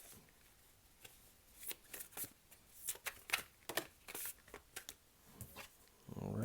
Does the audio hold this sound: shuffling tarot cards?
yes